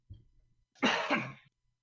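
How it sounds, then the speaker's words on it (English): A single harsh cough sounds close by after a brief faint throat noise, then quiet follows. "I heard a cough."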